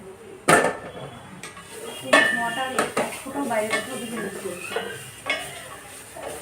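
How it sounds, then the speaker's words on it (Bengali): Onion frying without oil in an Amway Queen pot, with repeated metallic clanks of a utensil against the pan and lid over a soft sizzle, the scraping and stirring fairly close and steady. "দেখে যাও অলমোস্ট পেঁয়াজটা কিন্তু ফ্রাই কিন্তু হয়ে গেছে।"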